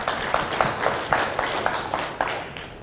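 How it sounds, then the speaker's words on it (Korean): Church congregation clapping at an early-morning Friday service, a short burst of loose, rhythmic claps from a modest group in a room, fading out within a few seconds. "하나님께 영광의 박수 올리겠습니다."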